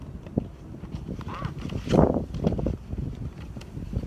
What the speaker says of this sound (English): I'm sorry, it's really windy.